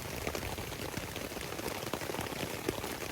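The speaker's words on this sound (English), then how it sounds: "It's raining pretty hard." Heavy rain drums steadily on a backpacking tarp shelter in the early morning, a dense, continuous patter of close drops with no voices.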